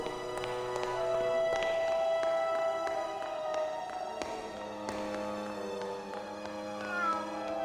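Cats meowing at a cat race in the video game Grim Fandango, repeated game meows over a steady music-like bed of sustained tones, moderately loud throughout.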